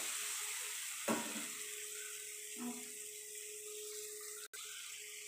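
Green chillies and finely chopped onions frying in a pan for an Andhra-style ulavacharu. There is a steady close sizzle throughout, with a couple of soft stirring knocks.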